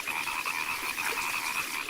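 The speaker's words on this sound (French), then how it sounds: "Entendez-vous les grenouilles qui coassent?" Frogs croak continuously at a pond, a dense, loud, rasping chorus with no pauses and no voices.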